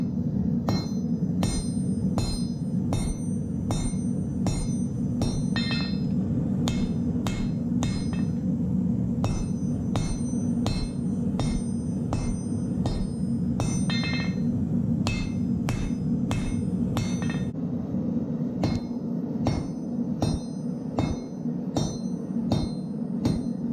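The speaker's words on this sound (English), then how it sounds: "I'm just gonna quit talking and just start hammering." Steady hammer blows ring out on hot steel while a fighting knife is forged, a long run of sharp metallic strikes in an even rhythm, close and loud over a constant low roar from the forge or shop.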